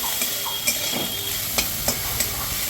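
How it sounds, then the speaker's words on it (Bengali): Steady loud sizzle of spring onions stir-frying over high heat, with a few sharp spatula scrapes against the pan and no talking. "স্প্রিং অনিয়নটাকেও হাই ফ্লেমে জাস্ট তাড়াতাড়ি ভেজে তুলে নেবে।"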